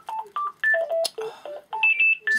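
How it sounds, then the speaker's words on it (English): A mobile phone rings with a bright electronic melody of short, steady beeping tones in a quick repeating pattern, close and clear, heard alone without speech. "Just bear with me, sorry, it's my phone."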